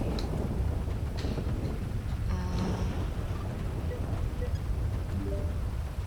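Steady rain with thunder rumbling through a storm in the game GTA RP, a constant loud wash with low rolling rumbles and no speech.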